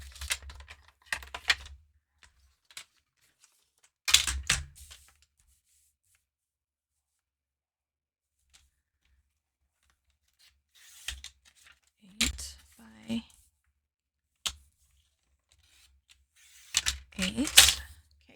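Paper is cut to 8 by 8 inches on a crafting stamp platform and score board, heard as short separate bursts of slicing and rustling with quiet gaps between them.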